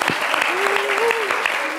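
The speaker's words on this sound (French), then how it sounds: "Merci d'applaudir." A studio audience applauds on a French midday television show, steady dense clapping filling the whole moment while a voice carries over it.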